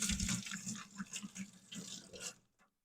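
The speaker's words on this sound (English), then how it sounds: "Rinse my hands again." Tap water running into a kitchen sink as hands are rinsed under it, a splashing, gurgling flow with uneven surges that stops abruptly near the end.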